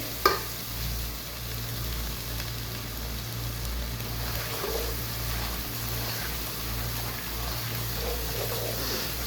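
Spices for mutton paya frying in a pot, a constant hissing sizzle with a low steady hum beneath, a sharp knock at the outset and faint stirring scrapes later, no voices.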